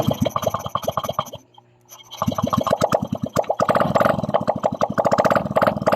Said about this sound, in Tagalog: So yun guys, umandar ng kanyang motor.